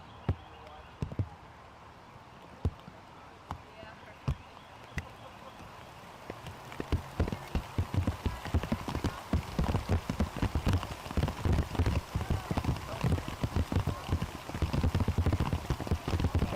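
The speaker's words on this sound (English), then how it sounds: "Rain is starting to fall." Rain falling on a golf course at a tournament, starting as a few scattered drops and building into steady dense pattering that fills the second half, with faint voices in the background.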